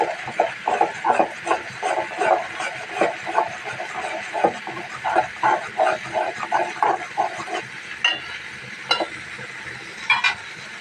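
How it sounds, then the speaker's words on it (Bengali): Spice paste sizzles in hot oil in a pan while being stirred for a catfish curry, with rhythmic scraping strokes over a steady frying hiss, close and moderately loud. "এখন আমি মশলাটাকে ভালো করে কষিয়ে নেব।"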